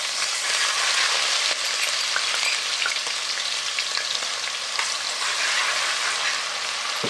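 Garlic frying in hot oil for stuffed bitter gourd, a loud continuous sizzle and crackle that stays steady and close for the whole stretch, with no voices.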